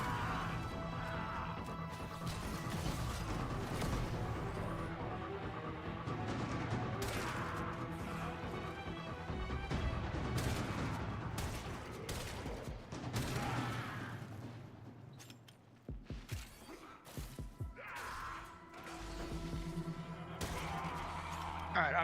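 Dense gunfire and crashing impacts from a Warframe battle, loud and continuous with bursts and smashes layered over game music and effects, a voice talking now and then underneath.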